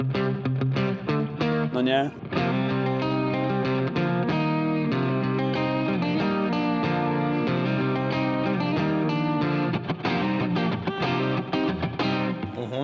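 Distorted electric guitar plays the Holy Diver riff in full chords, loud and sustained with heavy effects, while someone talks over parts of it.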